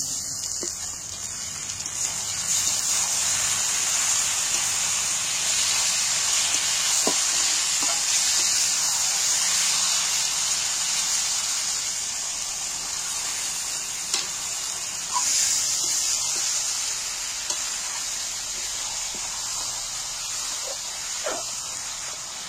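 Marinated chicken pieces go into hot oil with fried onions for a chicken dum biryani, producing a steady, loud frying sizzle that holds throughout, with faint clinks of stirring.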